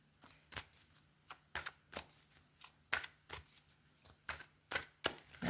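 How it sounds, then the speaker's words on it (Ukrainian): Repeated crisp riffling bursts of cards being shuffled, a dozen or so short flutters at an uneven pace, close and clear with no talking. "Тасую карту"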